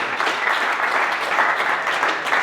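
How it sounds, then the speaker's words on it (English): An audience at a company all-team update meeting gives a steady round of applause, dense clapping at an even level throughout. "give Alex a round of applause"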